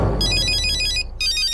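A mobile phone ringtone plays in a Telugu comedy film scene: a bright electronic melody rings out loud and close in two bursts, with a brief pause between them and no talking.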